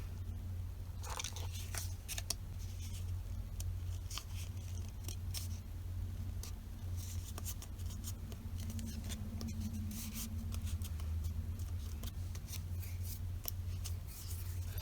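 Scissors snip through a paper tag for a scrapbook journal, a soft run of short cuts and rustles close by over a steady low background hum.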